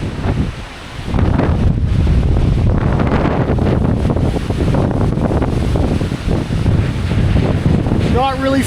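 Strong wind on an open highway roars and buffets a microphone, loud and continuous, during a summertime bikepacking trip.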